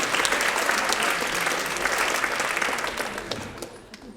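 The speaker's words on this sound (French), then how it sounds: "Vous pouvez l'applaudir aussi." Dense audience applause fills a formal awards ceremony hall, a steady wash of many hands clapping close and loud that begins to thin and fade toward the end.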